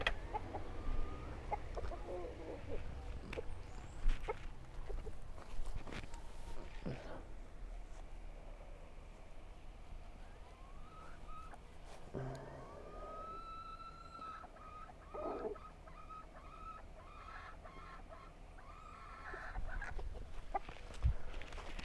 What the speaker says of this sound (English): Rooster is gonna come say hi, probably.